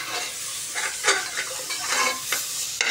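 Mutton sautéed in a pan, close and fairly loud, with a constant sizzle and irregular scraping stir strokes of a spatula, heard alone without talk.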